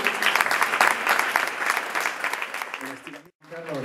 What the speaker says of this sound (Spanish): ha sido un besazo y un aplauso fuerte para ella